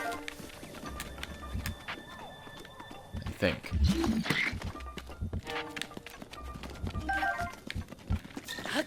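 Horse hooves clip-clop across the ground in the video game Breath of the Wild, a run of quick irregular thuds partly under someone talking and game effects.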